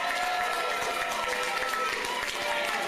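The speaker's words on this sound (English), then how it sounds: "Give yourselves a great round of applause." Supporters at a political acceptance speech applaud and cheer in a dense, steady wash of clapping from a large crowd, with voices mixed in underneath.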